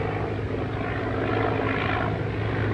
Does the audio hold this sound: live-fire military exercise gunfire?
no